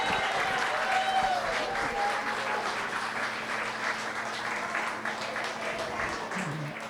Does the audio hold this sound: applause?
yes